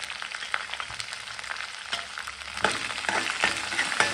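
Chopped onion, ginger and green chilli sizzle in a hot pan, a crackling hiss broken by scraping stir strokes that get louder and busier toward the end, with no talking.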